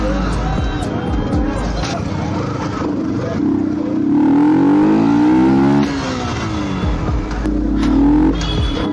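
Dense road traffic churns around a Yamaha R15 motorcycle on a crowded evening street in Kashmir, with engines revving and rising in pitch, a loud, close rumble and crowd babble.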